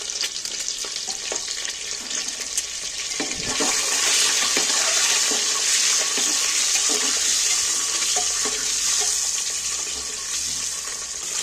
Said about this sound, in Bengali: তেলের মধ্যে দিয়ে হালকা করে একটু নাড়াচাড়া করে নেব, ভেজে নেব।